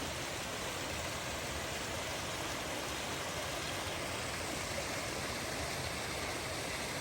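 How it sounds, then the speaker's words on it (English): A steady broadband rush of falling water from a small waterfall beside a snowy trail near Kephart Prong in the Smokies, constant and unbroken for the whole stretch with no voices. "Little waterfall coming down to the trail here."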